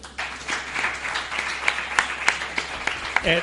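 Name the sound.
audience applause at a live podcast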